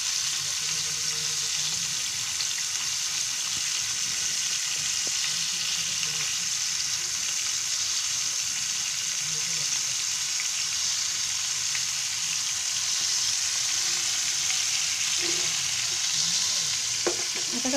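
Flour-coated Bombay duck (bombil) fillets fry in a pan with a loud, continuous close sizzle, while occasional soft scrapes and taps mark the pieces being gently turned; no voices.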